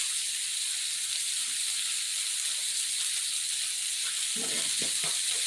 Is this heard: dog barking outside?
no